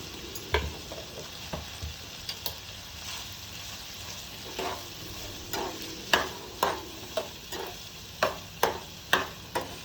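Chopped carrots with salt stirred in a pan over a soft sizzle, a spoon scraping and tapping in a regular rhythm that grows firmer toward the end, close and clear with no speech.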